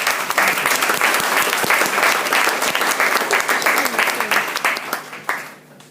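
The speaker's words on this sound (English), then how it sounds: "Big round of applause for Josh" A meetup crowd applauds a speaker taking the stage, a loud, dense burst of clapping from many hands that holds steady, then thins and fades out over the last second.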